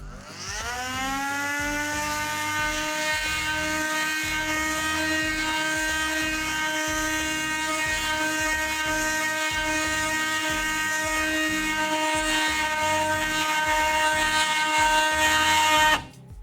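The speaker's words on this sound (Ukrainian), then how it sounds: "Під'єднуємо до інструменту, одягаємо наліпку і також можемо шліфувати." A steady, high-pitched whine from a Procraft PMT22 cordless oscillating multi-tool sanding runs continuously for about sixteen seconds with a buzzing undertone, then stops abruptly.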